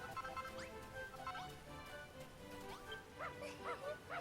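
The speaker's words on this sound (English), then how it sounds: "Good dog." A dog barks and yips in Dragon Quest Builders 2, with short whimpering calls over steady background game music.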